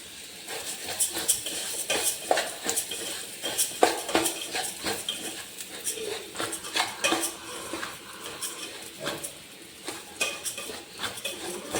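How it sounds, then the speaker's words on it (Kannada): Ingredients being dry-roasted in a pot, a busy run of metal utensil scrapes and clanks against the pot in an uneven rhythm, close and fairly loud, with no talking. "ಈಗ ಅದು ಹುರ್ಕೊಂಡಿರೋ ಪಾತ್ರೆಗೆ ಇವನ್ನ ಹಾಕ್ಕೊಂಡು ಇವನ್ನೊಂದು ಸ್ವಲ್ಪ ಹುರ್ಕೊತೀನಿ"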